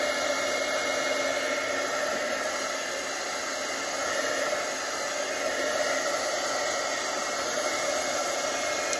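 A blow dryer drying glue runs continuously at close range, a steady loud whooshing hiss with a faint whine, unchanging throughout with no voices.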